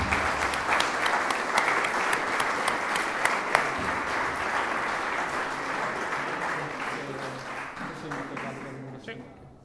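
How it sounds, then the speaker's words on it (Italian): Sustained audience applause after an economics lecture at a conference, a dense, even wash of many hands clapping that holds steady for several seconds before slowly dying away. "un applauso."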